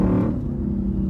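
A loud Lexus IS-F engine drones steadily from inside the car, a deep, heavy rumble that swells briefly at the start, then holds a constant low growl throughout.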